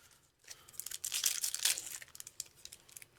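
A Magic: The Gathering booster pack from Modern Masters 2017 is torn open by hand, a close, crinkly foil wrapper ripping in several short bursts over about three seconds, with no voices.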